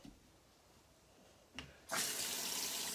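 Quiet room, a brief clunk, then water suddenly gushes from a tap and keeps running strongly and steadily.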